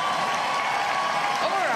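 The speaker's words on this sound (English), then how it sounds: "Very nice of them to all cheer." Live studio audience at a Big Brother Australia launch night, cheering and applauding in a steady, loud wash of claps and shouts.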